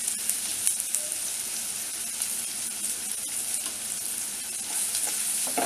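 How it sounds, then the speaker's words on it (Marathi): Onion and tomato tempering for Malvani stuffed eggs frying in a pan with a pinch of salt, a dense close sizzle with occasional stirring clicks and no talking. "फोडणी चांगली भाजलेली आहे."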